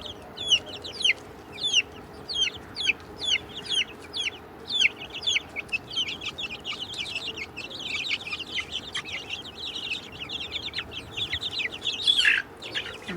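Native hens and chicks, including black-and-white and frizzle birds, cluck and cheep repeatedly at close range, a steady stream of short calls with a louder burst near the end.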